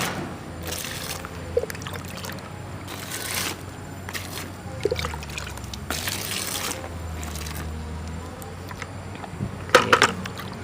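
Water splashes and trickles over a heap of banana peels, grass and dry leaves being soaked for compost, arriving in several separate pours with pauses between them and a sharper burst near the end.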